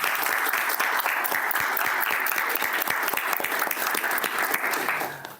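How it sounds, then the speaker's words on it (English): A university debate audience claps steadily for a professor, loud and sustained with sharp individual claps over the crowd, then tapers off at the end. "Please, a big round of applause."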